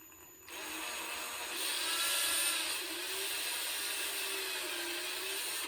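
A drill bores through epoxy into the wood of a toilet seat hinge, giving a continuous high whine that rises slightly and then holds steady for several seconds with no talking.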